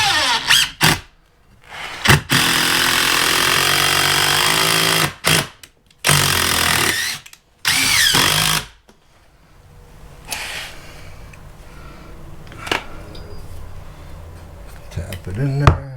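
Power drill driving screws through a new sister board into a rotten wooden bottom plate, several loud sustained bursts of whirring in the first half, followed by quieter handling noise.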